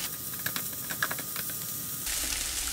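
Onions and lardons sizzle in a hot pan, a soft steady hiss with small crackles that turns brighter and louder near the end.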